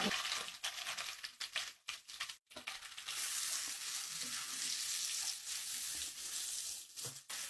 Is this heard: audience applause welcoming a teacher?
no